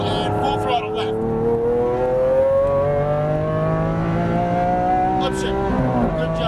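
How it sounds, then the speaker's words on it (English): Lamborghini Aventador engine pulling hard at full throttle on a track, a loud, continuous rising drone with the pitch climbing steadily before a brief shift, close and sustained. "Little bit of throttle and full throttle left."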